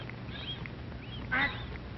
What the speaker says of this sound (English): Mother duck calls to her babies to follow her into the water.